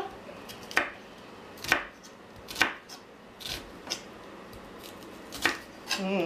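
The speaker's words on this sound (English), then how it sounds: "finish slicing up these, and I'm just thin slicing them" A knife thin-slices onions on a cutting board in a home kitchen, landing about seven sharp, evenly spaced chops close by over a faint background hum, with no one talking.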